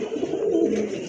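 Pigeons cooing at a pigeon seller's place, a low, steady, close-by cooing that runs through the whole moment with no voices over it.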